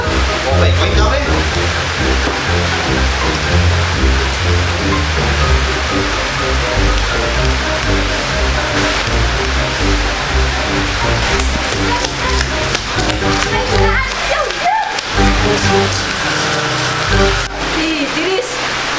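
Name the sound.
heavy rain falling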